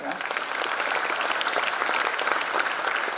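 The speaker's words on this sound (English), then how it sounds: "Let's have a big round of applause to them." A big round of applause from the audience at a freshers' induction programme, dense and loud clapping from a large crowd that carries on evenly throughout.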